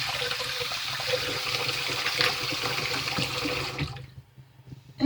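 Water runs steadily from a tap while the parts of a shaving razor, including its top cap, are rinsed, a loud close rushing flow that stops abruptly near the end, followed by a brief clunk.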